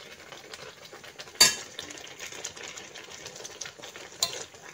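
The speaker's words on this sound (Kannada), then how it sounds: "ನೆಲ್ಲಿಕಾಯಿ ಹಾಕ್ತಾ ಇದ್ದೇನೆ." Indian gooseberries (nellikai) dropped into a pan for nellikai pulinji land with a sharp clatter, followed by a soft, steady sizzle and light stirring scrapes, with another brief clink near the end and no talk.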